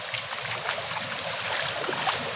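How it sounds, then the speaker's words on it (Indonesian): A boat travels up a shallow, rocky upper stretch of the Mahakam River, giving a continuous close rush of water and hull noise with small splashes, and no talking. "Kita jalan di atas sungai."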